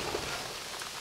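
Heavy rain pours outside during an off-road competition, a dense continuous hiss of water with no breaks, steady and moderately loud with no voices.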